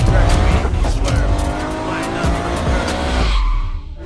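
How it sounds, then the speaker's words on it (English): An Audi S3 speeds through Bolton streets in a police chase, its engine roaring loud and close and rising in pitch, with tire squeal and road noise before the sound cuts off sharply near the end. "Audi S3 police chase through Bolton, 80 miles per hour plus."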